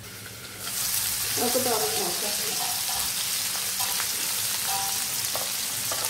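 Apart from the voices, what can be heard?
fish frying on a flattened iron rock tava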